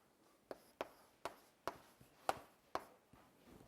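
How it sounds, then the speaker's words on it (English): Chalk tapping and scraping on a board during a maths lecture: six or seven sharp, evenly spaced strokes close by, with no talking over them. "So what I'm going to do is write, here's the term we're looking for."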